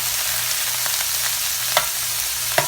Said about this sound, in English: Once I add my shrimp to the pot